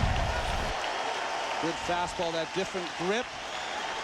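Stadium crowd noise from a Diamondbacks–Cubs playoff baseball game rises to its feet during a full-count at-bat, a steady roar from a distant crowd beneath a commentator's voice.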